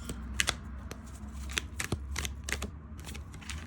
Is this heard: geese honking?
no